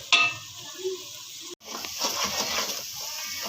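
Garlic and ginger frying with onions in a pan, a soft steady sizzle with a sharp clink of a utensil near the start and a brief break before the sizzling resumes, fairly quiet and close.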